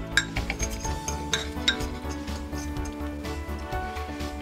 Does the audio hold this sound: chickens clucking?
no